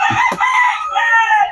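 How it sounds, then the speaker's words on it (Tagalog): Rooster crowing nearby, a single loud, drawn-out call with a harsh rising start and a long sustained tail, standing alone with no talk. "Ito po yung mga manok ni sir"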